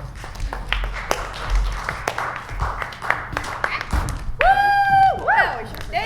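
Scattered audience clapping at an improv comedy show, a handful of sharp, uneven claps rather than a full ovation, ending as a voice takes over near the close.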